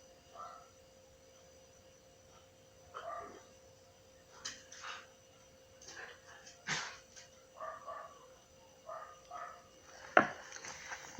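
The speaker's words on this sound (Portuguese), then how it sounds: "como eu tenho o meu cachorro aqui, ele agora tava latindo aqui dentro" A dog barks in short, scattered bursts indoors, with quiet yips and whimpers between, some barks nearer and sharper than others.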